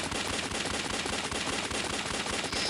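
Rapid automatic gunfire from the mobile game Alien Shooter rattles without pause, a dense, loud stream of close shots with no talking over it.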